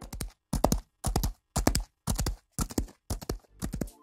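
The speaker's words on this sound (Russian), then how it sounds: "Получается более реалистичный звук скачущего ковбоя." Foley galloping horse made by knocking stones on a surface scattered with sand and dry grass: about eight crisp, evenly paced bursts of clattering hoofbeats, close and loud, with short silences between them.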